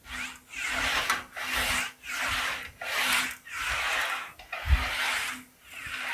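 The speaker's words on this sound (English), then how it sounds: "Let's go switch anvils and start stretching out this area through here." An English wheel rolls back and forth across a sheet-metal trunk skin for a 1940 Ford Coupe-inspired build, making a steady rasping whir in about eight even, rhythmic passes, close and fairly loud with no talking.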